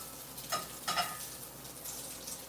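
Bacon sizzles in a cast iron pan with a continuous crackling hiss and two sharper bursts of spitting near the start.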